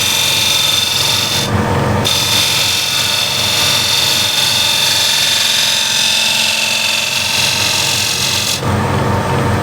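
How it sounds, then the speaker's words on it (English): A spindle gouge shear-scrapes a wooden bead bowl spinning on a lathe, giving a loud, steady, continuous rasping hiss that shifts briefly near the start and again near the end. "Spindle gouge, so just go here at the bottom of the bead"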